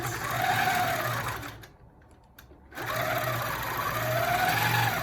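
A longarm quilting machine stitches with a steady, fast mechanical whir while guided along an arc ruler, stopping briefly in the middle before running loudly again, close by and without talking.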